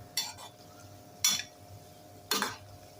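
Shankarpali frying in hot oil, stirred with a slotted spoon: three distinct bursts of scraping and clinking against the pan, each about a quarter second long, spaced roughly a second apart over a faint steady background.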